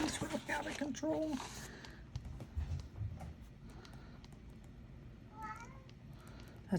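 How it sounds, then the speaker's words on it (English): Pet cats meow indoors at home in a few drawn-out, wavering calls near the start, then a shorter meow later over soft household rustling and low thumps. "These cats are really out of control."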